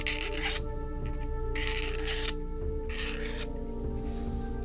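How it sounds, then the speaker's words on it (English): Wood being scraped with an adze-style hand tool while building a ghost box, three rough rasping strokes in a slow rhythm, each about half a second long and close, over a steady background hum. "do some adzing, as they call it, which is basically scraping"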